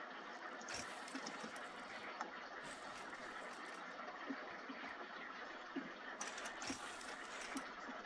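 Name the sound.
welding blocks back together in a video game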